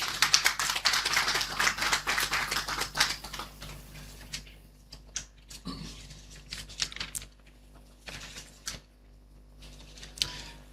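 Applause from an audience at a journalists' training seminar, dense and loud at first, then thinning into scattered, sparse claps that trail off irregularly over several seconds.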